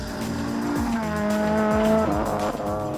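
A Honda Integra Type-R DC5 with its 2-litre four-cylinder K20 engine revs hard as it drives, pitch rising and dropping through gear changes while the tires squeal, loud and close.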